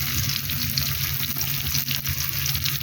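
Chopped onion and tomato frying together in a pan over a clay stove, a continuous watery sizzle with faint stirring scrapes, steady and near, no voices.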